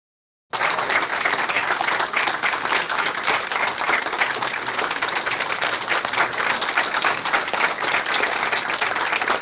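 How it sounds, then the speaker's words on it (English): An audience at a New Jersey State Board of Education meeting breaks into applause, a steady, dense clapping that starts abruptly after silence and carries on evenly for several seconds. "How about another round of applause for such inspiring words?"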